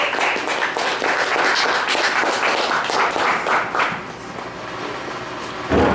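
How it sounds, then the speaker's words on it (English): An open mic poetry night audience breaks into dense, loud applause for the next poet, sustained clapping that thins out briefly near the end. "let's give a big round of applause for our next poet, Damian Carpenter."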